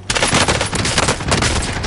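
Sustained rapid automatic gunfire from a Call of Duty match on Rebirth Island, loud and close, a dense continuous burst filling the whole moment with no talking.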